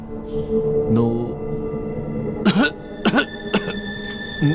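A man with a cold coughs several sharp, raspy times in a cluster near the end, close and fairly loud, with muffled background sound between them.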